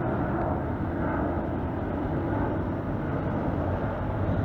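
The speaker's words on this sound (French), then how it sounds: "Il y a un avion qui part pour Dubaï ou je sais pas où, il s'en va du moins, il part." A departing airliner passing overhead near a motorcycle gathering, a steady broad engine roar that holds loud and even throughout with no talk.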